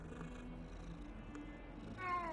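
A cat in the video game Hogwarts Legacy purrs with a low, steady rumble close up, then gives a short meow at the end.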